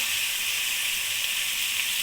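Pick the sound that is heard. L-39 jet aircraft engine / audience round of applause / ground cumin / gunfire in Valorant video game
ground cumin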